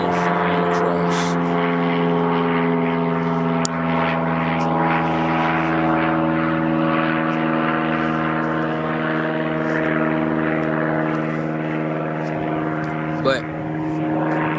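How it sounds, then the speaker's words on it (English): A propeller aircraft flies over close to an airport, a steady loud engine drone with strong harmonic hum that holds throughout. "It's an airport right here, so they're always passing and flying across."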